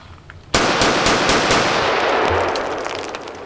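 A single loud rifle shot from a 5.56 rifle with a 16-inch barrel and Surefire muzzle brake firing Hornady Frontier 55 grain ammunition, a sharp crack followed by a long ringing outdoor echo and reverberation.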